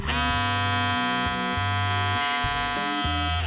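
A Kemei KM-2282 electric hair clipper runs close by with a steady, loud buzzing hum that holds throughout, its pitch wavering slightly in a few spots, with no talk.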